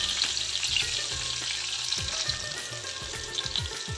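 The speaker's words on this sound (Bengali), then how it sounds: "এবার চাল কুমড়োর টুকরোগুলো দিয়ে দিচ্ছি গ্যাসের ঘি একটু বাড়িয়ে দিচ্ছি" Ash gourd pieces fry steadily in a pan over medium gas, a dense continuous crackling sizzle with occasional low utensil knocks, close and fairly loud throughout with no talking.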